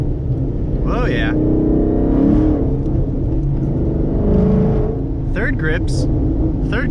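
A Boss car's engine rumbles and whirs continuously while driving, holding a steady low drone with slight swells, as someone talks over it in a couple of short bursts.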